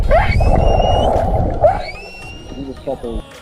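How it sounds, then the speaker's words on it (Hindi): Two rescued whales sing: rising, whistling tonal calls repeat over a low watery rumble, followed by softer chirps and clicks. "दो व्हेल्स गाना गाने लगी, और वो भी खुशी में"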